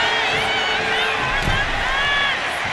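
A loud arena crowd cheers and shouts continuously in WWE 2K25 wrestling gameplay, a dense roar with whoops rising over it and a brief thump in the middle.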